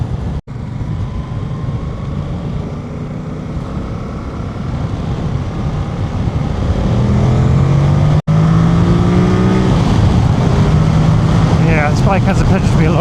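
A 2025 Yamaha Tracer 7 motorcycle pulls hard on a test ride, its engine drone rising in pitch under heavy wind rush, while a rider talks over it.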